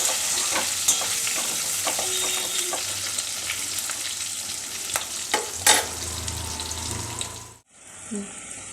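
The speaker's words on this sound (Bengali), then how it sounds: "এবার আলুটাকে আমি লাল করে ভেজে নেব" Potatoes fry in hot oil with dried and green chillies, a steady close sizzle with stirring scrapes throughout, briefly cut off near the end.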